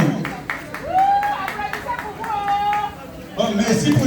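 An indoor audience gives scattered claps amid chatter and a few high whistles or whoops, fairly close, with louder voices rising toward the end.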